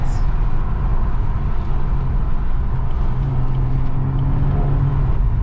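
A steady, loud low engine roar from a stage 2 tuned BMW M140i with a B58 engine rumbles continuously, close by, with no talking.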